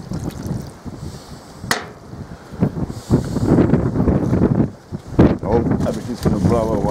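Gusty wind outdoors buffets the microphone with a rough, rumbling roar that swells and drops, loud and close, while a person talks through it.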